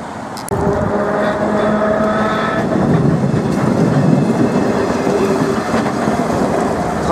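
A historic 1835 streetcar rolls past in New Orleans, its steady loud rumble and rattling wheels filling the scene close by, with faint squeals on the rails and no voices.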